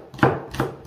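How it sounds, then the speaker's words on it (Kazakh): Garlic being chopped with a knife on a board, two distinct close chops in quick succession. "Чеснокты үстіне осылай езіп, жақсылап тураймыз осылай"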